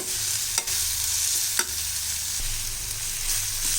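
Onion tomato thokku sautéing in a pan, stirred with a steady broadband sizzle and a few sharp scraping clicks of the spoon, close and continuous with no voices.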